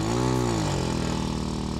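Motorcycle engine in the video game PUBG, a loud steady drone that rises and falls in pitch as it revs, close and continuous with no voices.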